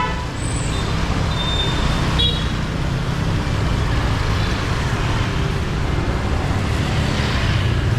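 Busy street traffic in Hanoi, with cars and two-wheelers streaming past at close range. A steady roar is broken by short horn toots early on, and the wash of passing vehicles carries on throughout.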